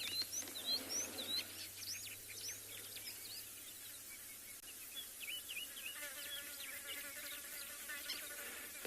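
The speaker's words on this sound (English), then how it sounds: "the Kalahari scrub robin." A Kalahari scrub robin sings on a sunset safari, faint and somewhat distant melodious chirps and whistles repeating among insect buzz and other bird calls, with no voices.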